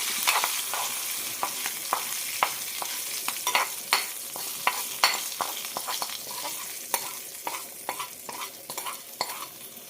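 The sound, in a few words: tempering of mustard seeds, urad dal and curry leaves frying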